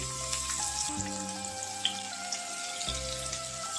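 Sliced onions dropped into hot oil already browning garlic, dried red chili and asafoetida for restaurant-style Bengali dal fry, giving a steady close sizzle and crackle with faint clinks, no talking.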